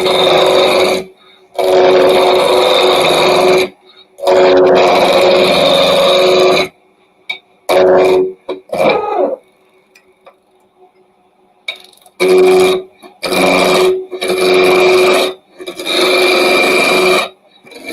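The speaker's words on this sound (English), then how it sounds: "I'm just using my rough and gouge to do this." A roughing gouge cuts a wood blank on a lathe spinning at about 1400 rpm, giving loud, close scraping bursts of a few seconds each, separated by short pauses and a quieter stretch in the middle.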